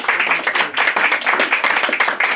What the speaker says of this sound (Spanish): Aplauso para la niña